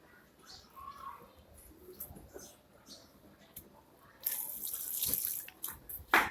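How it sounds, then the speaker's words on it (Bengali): Water pours onto plants, splashing and rushing for a couple of seconds after a quiet stretch of faint background sounds, then ends with a brief louder splash. "গাছে পানি দিয়ে দিই।"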